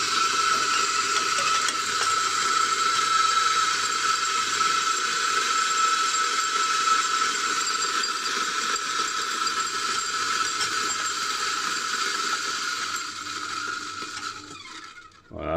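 A Mazzer Mini coffee grinder fitted with new 64mm burrs running continuously, a loud, steady whirring grind with a bright mechanical whine that fades slightly before the motor cuts off near the end, heard up close with no talking.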